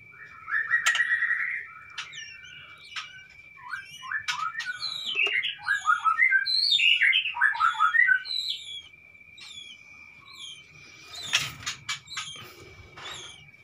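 A white-rumped shama, kept in a small breeding cage, sings nearby, loud, rich whistled phrases in rapid varied bursts, over a steady high-pitched drone.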